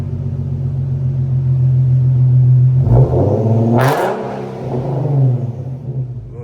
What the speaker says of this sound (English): Boy, Check done pulled up with the AMG